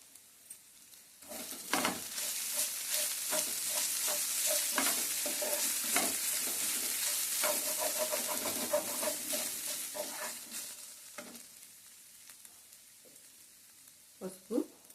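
Mutton fries in a pan as crushed tamarind leaves are stirred in, giving a continuous close sizzle with repeated scraping strokes and clinks of a spoon against the pan, fading toward the end.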